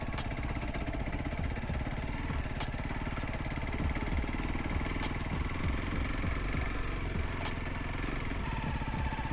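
A 300L off-road motorcycle engine runs steadily and loud, with a rough, uneven throttle giving a choppy, pulsing engine note that continues the whole time.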